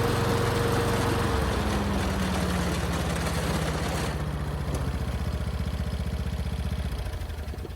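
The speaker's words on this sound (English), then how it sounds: "the mowing deck shakes excessively when the blades are engaged" Ride-on mower engine running with its mowing blades engaged and the deck shaking excessively: a close, loud, rough droning hum with rattling vibration, its pitch shifting downward as speed changes, steady throughout.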